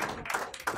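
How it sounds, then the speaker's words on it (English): Applause rises from a small audience at an award ceremony in the House of Lords, a short burst of dense clapping and tapping heard close with no voices. "Please give her a big round of applause"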